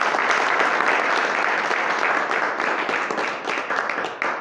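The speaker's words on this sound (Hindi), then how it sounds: "ताली होनी चाहिए इस प्रोडक्ट की।" An audience claps loudly for an organic farming product at a farmers' meeting, a steady dense burst of applause sustained throughout without pause.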